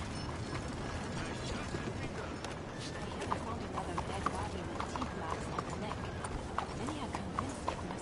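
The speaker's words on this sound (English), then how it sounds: "Just look at that horse." Horse hooves clip-clop steadily in a video game, light rhythmic knocks repeating through the whole stretch over a dense background of game ambience and mechanical ticking.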